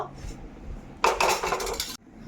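A metal wok clatters and scrapes against the stove in one loud, rattling burst lasting about a second, then the room falls quiet.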